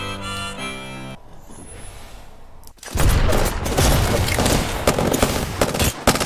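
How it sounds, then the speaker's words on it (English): In the Apex Legends video game, a short musical cue and quiet lull give way to a sudden grenade blast and a dense, continuous burst of rapid gunfire that stays loud to the end. "He grenaded me to death."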